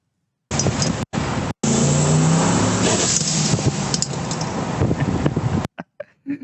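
A Ford car engine roars loudly as it revs and accelerates, a sustained throaty rumble with a few sharp breaks, then trails off into quieter noise.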